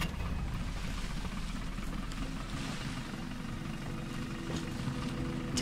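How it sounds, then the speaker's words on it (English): A boat engine starts and runs in the video game Battlefield Bad Company 2, giving a steady, loud, low rumbling drone that holds evenly throughout with no voices over it. "Start the engine."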